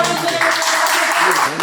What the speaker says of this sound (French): On applaudit le passage